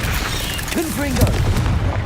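A Confringo spell blast in Hogwarts Legacy gives a loud, deep booming explosion that rumbles on for about two seconds, with a voice heard briefly over it.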